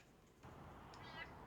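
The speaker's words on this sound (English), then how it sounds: "You're hearing the kitties." Cats meow outside in a backyard, a short faint mew rising over quiet ambient noise.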